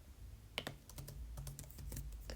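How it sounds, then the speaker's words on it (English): Light, quick taps of typing on an iPad touchscreen, quiet and close, in uneven clusters with short pauses over a low steady background hum. "I'm typing on my iPad."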